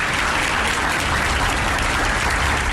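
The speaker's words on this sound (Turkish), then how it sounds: "alkışlayarak protesto etti" Health workers at a hospital applaud in protest as a sergeant who beat a doctor is led away to a police car, a loud, dense, unbroken wall of clapping close by throughout.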